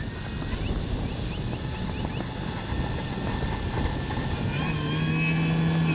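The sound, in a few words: Hangar 9 Valiant 20cc RC airplane taking off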